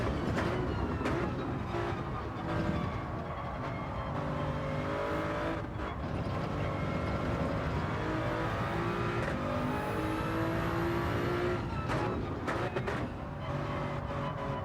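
A race car engine in Gran Turismo drones loudly and continuously, rising and falling in pitch through gear changes and corners, with steady tire and road noise underneath.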